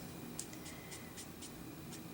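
A marker scribbles fast across paper, quick strokes coloring in an area with short, soft scratchy bursts at a steady rhythm, faint and close.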